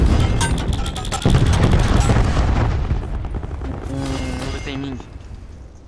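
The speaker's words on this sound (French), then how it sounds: "Cluster grenade, enjoy." Cluster grenade blasts and bursts of gunfire in the Call of Duty: Black Ops 4 multiplayer game, dense and loud at first, then thinning into scattered shots, with someone speaking briefly over the din.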